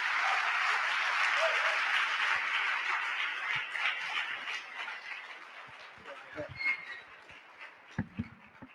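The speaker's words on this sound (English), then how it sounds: "Please give him a round of applause." An audience gives a speaker a round of applause, a dense wash of clapping that starts loud and fades away over several seconds, followed by scattered claps, shuffling and a few voices.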